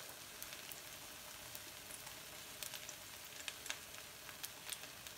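Egg white mixed with salt sizzles softly in a frying pan, a faint steady crackle with scattered small pops, close and alone without talking.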